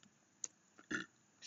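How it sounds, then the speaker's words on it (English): A single short burp from a player mid-game, a brief throaty burst near the mic, set between faint clicks and soft background noise. "I burped"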